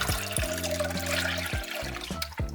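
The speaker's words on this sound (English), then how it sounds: "Transfer the kombu and the water into a pot." Water with kombu being poured into a cooking pot while making dashi broth for shoyu ramen, a steady close pouring and trickling flow that lasts throughout, with faint low hum underneath.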